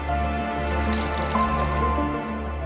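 Water poured into a drink, a close, gentle trickle and splash of liquid filling a glass, quiet and continuous over a low background hum.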